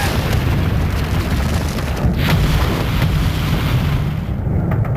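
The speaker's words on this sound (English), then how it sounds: "The ships are firing at us!" Ships fire artillery in the Nintendo DS game Call of Duty: World at War, a continuous heavy barrage of booms and explosions rumbling loud and low, with sharper blasts standing out around the middle.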